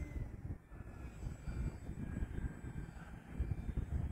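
An E-flite Extra 300 3D 1.3m RC airplane flies overhead, its electric motor a continuous buzzing drone that rises and falls a little while the plane maneuvers at moderate distance outdoors.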